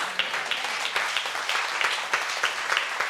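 Church congregation applauding during a sermon, a dense, sustained wash of many hands clapping at moderate distance, steady throughout with no clear breaks.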